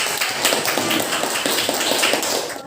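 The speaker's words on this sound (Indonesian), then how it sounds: "Berikan aplaus dulu" Classroom applause fills the room, dense and loud, with many pairs of hands clapping together in a continuous burst that fades slightly at the end.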